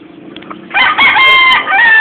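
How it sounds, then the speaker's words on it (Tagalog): A rooster on a farm in Mangatarem, Pangasinan crows once, loud and close, with a long, strained call that follows a few soft clucks. "Ayan, yung manok ko."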